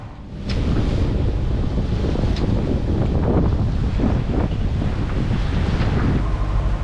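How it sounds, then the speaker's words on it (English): Big Atlantic waves and strong wind buffet a sailboat at sea, a loud continuous roar of wind and surf with repeated surges of breaking water and no voices. "there's some pretty big waves at the moment"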